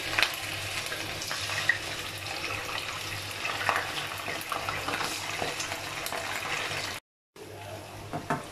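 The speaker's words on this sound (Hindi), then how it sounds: "इसको मैं कर रही हूँ डीप फ्राई मीडियम फ्लेम पर, मीडियम टू लो फ्लेम पे" One kilogram of chicken deep frying in oil on a medium to low flame, a constant dense bubbling sizzle with faint occasional clinks, cut briefly by a short gap of silence near the end.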